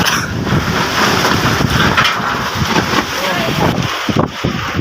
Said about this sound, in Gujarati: પવન તો હજી છે